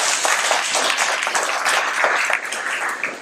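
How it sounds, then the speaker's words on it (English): Audience at a panel event applauds with a steady, dense patter of many hands clapping at moderate distance, fading slightly near the end. "A round of applause, please."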